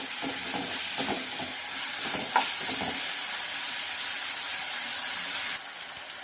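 Onion and tomato frying in a pan for dal, giving a steady, close sizzle throughout with a few brief scrapes of stirring; no one speaks.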